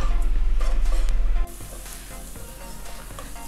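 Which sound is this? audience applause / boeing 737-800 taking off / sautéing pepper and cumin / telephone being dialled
sautéing pepper and cumin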